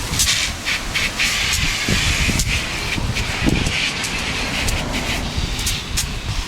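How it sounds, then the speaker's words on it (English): A water spray hisses steadily against a mountain bike during a Giant NRS restoration wash, a loud continuous jet with bursts and shifts as the stream moves over the frame. "He is washing his mountain bikes."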